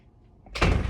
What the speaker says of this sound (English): Can you go close the door, please?